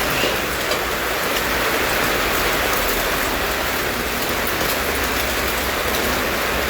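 Heavy rain pours down in a dense, constant hiss, loud and unbroken throughout.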